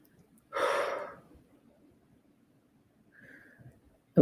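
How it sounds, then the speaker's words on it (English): A deep inhale taken during a guided breathing exercise, a single loud, breathy draw of air lasting about half a second, followed by quiet and a softer breath later. "And that inhale."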